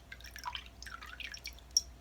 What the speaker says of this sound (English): let me just pour a little more rose water so that way the vinegar doesn't smell so